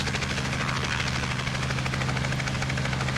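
Robinson R44 helicopter landing in a flight simulator game, heard as a steady, loud rotor thump with a constant engine drone throughout, even and unbroken with no talking.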